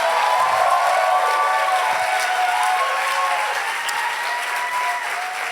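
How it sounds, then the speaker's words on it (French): At a baptism ceremony, an audience claps steadily and loudly in a dense, sustained round of applause that continues evenly throughout with little variation. "On peut les applaudir encore une fois."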